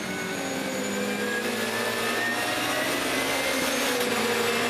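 Touring cars race at the Estoril circuit in round 6 of the 2008 World Touring Car Championship, engines whining in a steady, fairly distant drone with rising tones as they accelerate.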